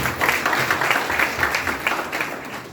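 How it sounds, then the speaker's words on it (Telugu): A congregation claps together during prayer at a revival meeting, a dense, steady patter of many hands filling the hall with slight rhythmic surges and no clear voice on top. "చప్పట్లు కొట్టి ప్రార్థిస్తున్నాం."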